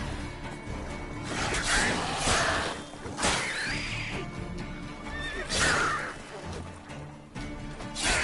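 Roach, a horse in the video game The Witcher 3: Wild Hunt, neighs in several loud whinnies over clopping hooves and a busy background din, close and prominent.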